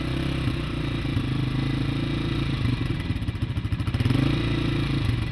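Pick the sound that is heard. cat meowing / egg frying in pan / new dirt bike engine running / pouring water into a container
new dirt bike engine running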